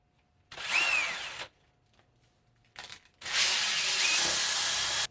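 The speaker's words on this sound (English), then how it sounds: "I put it in the drill. I put the drill on the ground" A power drill spins a six-foot sword blade against sandpaper, whirring in two long bursts separated by a short blip, with a rough abrasive rubbing texture riding on the high whine.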